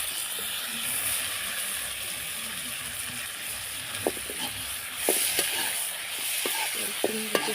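Dried mandeli fish hitting a hot pan and being stirred, giving a steady close sizzle with scraping stir clicks that grow busier toward the end, with no voices.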